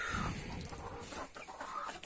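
A flock of hens with a rooster clucks nearby in a farmyard. The chatter is dense and continuous, with overlapping calls throughout.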